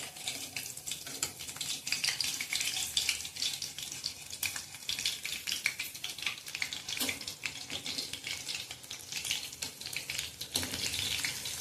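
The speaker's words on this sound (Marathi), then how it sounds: "2 मिरच्या घेतल्या चिरून हिरव्या, त्या हलक्याशा तेलात भाजून घेऊया।" Chopped green chillies fry in a little oil for sabudana chivda, giving a steady, close crackling sizzle with scattered sharp pops and faint clinks throughout, with no talking.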